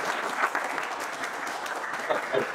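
A room of students at a mobile repairing institute applauds a guest, continuous clapping from many hands, fairly loud and close, with a faint voice under the clatter.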